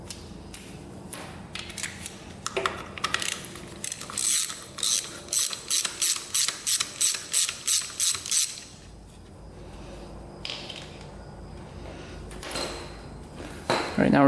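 Ratchet wrench clicking steadily as it turns a 17 mm bolt on a Honda 400ex ATV engine with a 416cc big bore kit, a run of about a dozen evenly spaced close, crisp ratcheting strokes.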